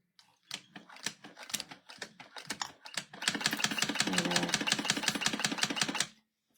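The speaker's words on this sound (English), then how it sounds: "this machine is, is a walking foot, and it's a double walking foot" A double walking foot sewing machine stitches the side seams of a crossbody bag, with a few short starts and stops and then a steady, fast mechanical chatter of needle strokes running close and loud for about three seconds.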